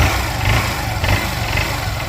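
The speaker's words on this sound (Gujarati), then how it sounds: "એન્જિનનો અવાજ આપ જોઈ શકો છો" A Honda Shine 125 motorcycle engine, after block, piston and valve work, with clutch facings due and poor mileage, runs at a steady idle, a close continuous low chugging hum with no speech.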